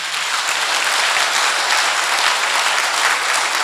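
A church congregation breaks into loud, dense applause after a sermon, a continuous hiss of many hands clapping at once, close and unbroken for several seconds.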